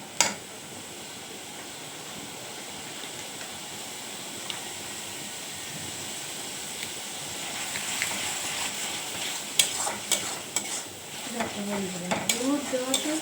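Lotte (Bombay duck) fish with turmeric powder is stirred in a pan over a steady sizzle, and the scraping and clinks of the utensil grow busier and louder toward the end.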